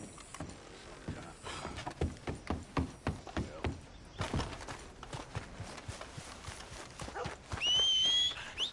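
Horse hooves clip-clop in Red Dead Redemption 2: a series of irregular hoof thuds at moderate distance, followed by a brief high whinny-like tone near the end.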